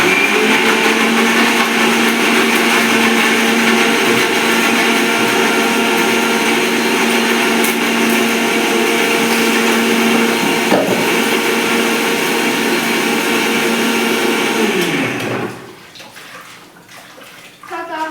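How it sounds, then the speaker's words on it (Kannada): Mixer grinder grinding masala, a loud, steady whining motor hum that runs continuously and close, then cuts off near the end, leaving quiet room noise. "ಸ್ವಲ್ಪ ಇನ್ನಷ್ಟು ರುಬ್ಬು."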